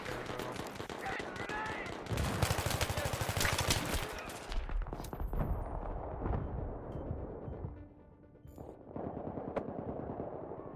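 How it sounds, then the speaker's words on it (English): Battlefield 3 gunfire on PS3, dense bursts of automatic fire and booming blasts from several shooters at once, loud at first and then thinning into scattered shots after a brief lull. "Everybody's shooting at you right there, bro."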